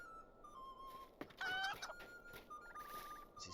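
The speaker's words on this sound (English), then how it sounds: "There's the rooster." Rooster in Lord of the Rings Online game audio clucking in a quick loud burst mid-way, surrounded by quieter whistle-like bird tones and a faint trailing cluck series.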